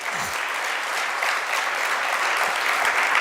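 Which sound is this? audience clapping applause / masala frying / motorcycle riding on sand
audience clapping applause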